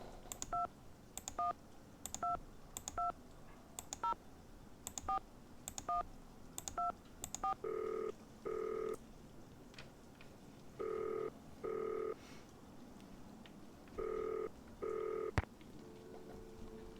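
Telephone keypad dialing in the Nancy Drew: Danger By Design video game: a run of rapid touch-tone beeps, followed by paired longer tones repeating in short bursts, clear and upfront over faint background.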